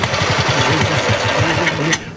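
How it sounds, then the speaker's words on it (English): A 1970 bus engine running, a loud close rhythmic diesel chug with steady low pulsing and rattling throughout. "Now, start the engine for me, Arthur."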